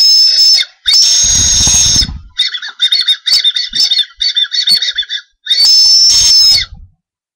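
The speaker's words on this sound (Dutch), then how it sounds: "Kan er gewoon op fluiten." Shrill whistling blown on a Japanese whistle candy, loud and close: long sustained piercing tones alternating with a quick run of short chirpy toots.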